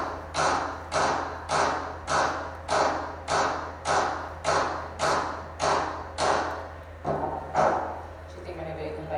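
A hammer strikes an Emax ceramic crown seated on a tooth, about a dozen sharp, evenly spaced taps ringing out one after another, loud and close over a low steady hum.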